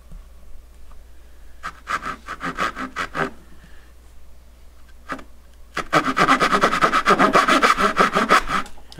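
A hand saw cuts dovetails in wood, starting with short tentative strokes, then after a pause a fast, steady run of rhythmic rasping strokes, close and clear with no talk.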